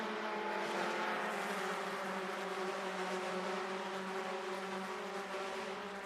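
Mazda MX-5 Cup race cars at full throttle on a road course at Canadian Tire Motorsport Park, a loud, steady, layered engine roar with several cars close together and no letup.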